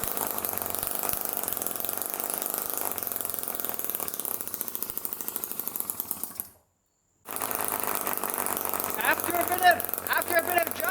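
Homemade internal combustion engine built from an old compressor and fitted with a carburetor runs steadily with a fast rough chatter, cuts out briefly, then picks back up and keeps running.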